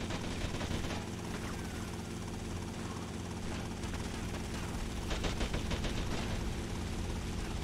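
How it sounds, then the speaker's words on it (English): Helicopter burning in GTA Vice City Definitive Edition: a steady loud rotor and engine roar fills the whole stretch, with crackling bursts and brief gunfire-like pops layered over it late on. "Oh, helicopter's on fire."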